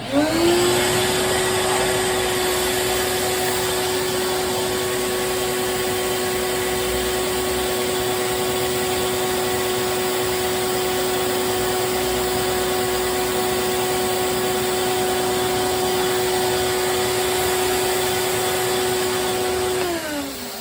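A Safety Speed Cut Mfg panel router motor running steadily for the whole stretch, a loud, even high whine with a constant tone from start to finish, winding down slightly at the very end, with no speech.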